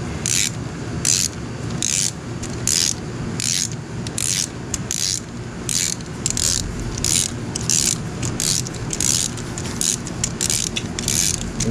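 Rhythmic ratchet clicking as a bolt is tightened on the front brake of a 2013 Honda GoldWing GL1800 F6B motorcycle, a steady series of close, evenly spaced rasping strokes without talk.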